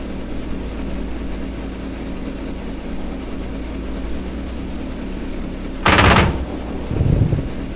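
A short, loud burst of tank machine gun fire in a Bundeswehr tank game cuts over a steady low engine rumble, followed a moment later by a second, weaker burst.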